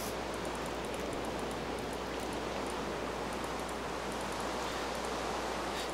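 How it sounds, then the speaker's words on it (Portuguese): Steady rain falls in the video game Minecraft, a constant, even hiss with faint, regular ticking above it and no talking. "Tá chovendo bastante."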